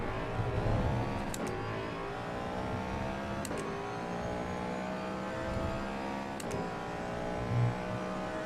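Racing engine of a Ford Mustang with a Coyote V8 in the Assetto Corsa EVO sim, holding a steady, harmonic-rich drone with brief shift-like breaks, loud and continuous with no talk.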